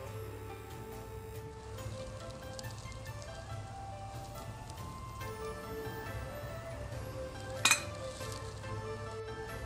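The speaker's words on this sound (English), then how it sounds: "The most popular method is to pan fry with oil." Nian gao, Chinese New Year cake, frying in hot oil in a pan, a steady low sizzle running throughout with faint clinks of utensils and one sharp metallic clink near the end.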